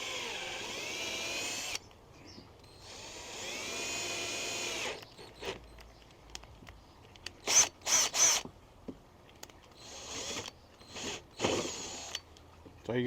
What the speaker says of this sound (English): I'm using a big drill bit